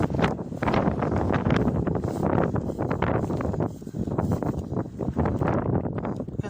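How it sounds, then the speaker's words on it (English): Strong wind buffets the microphone on a harbour at night during sea fishing, a continuous loud broadband rumble and roar with gusty swells filling the whole clip. "But it's just so windy."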